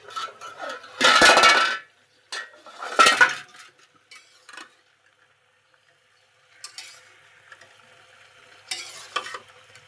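Mixed vegetables stirred in a pan, with bursts of scraping and clinking utensil strokes over a soft frying sizzle, then quieter stretches and a few late clatters, close and fairly loud with no talking.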